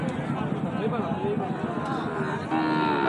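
Sahiwal cattle moo at a livestock market, a loud nearby low call with a busy murmur of people talking behind it.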